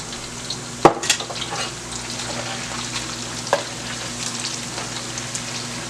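Plantain slices fry in oil for plantain chips, a steady close sizzle broken by a few sharp clanks and scrapes as they are stirred apart, with no talk.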